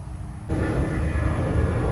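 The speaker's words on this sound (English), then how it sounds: "there goes the airplane taking off on cue" A loud, low aircraft engine roar swells suddenly and holds steady, a broad rumbling drone close by.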